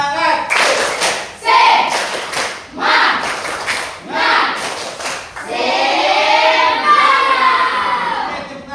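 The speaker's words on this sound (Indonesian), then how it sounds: "maka kita tepuk semangat. Siap? Beri tepuk semangat." A school class claps together in a rhythmic spirit cheer, several loud bursts of hand claps separated by short pauses, followed by a sustained swell of children's voices and cheering.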